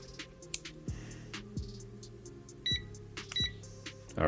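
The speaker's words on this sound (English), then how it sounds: "I don't have a timer. I do have a timer." A timer being started at a miniature-painting desk gives a few short, high electronic beeps, faint over a steady low hum and tonal background.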